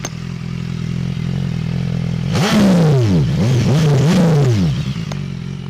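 A 2015 BMW S1000XR motorcycle engine idles steadily, then is blipped through several rising and falling revs before settling back to idle, loud and close with no talking.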